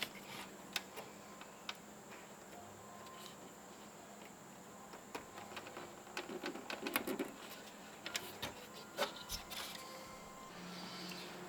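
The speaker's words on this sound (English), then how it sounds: "All right, screws back in." Small screws being driven back into the case of a Panasonic SG-J500 portable boombox during repair, heard as scattered faint ticks and clicks over a steady background hiss, growing busier in the second half.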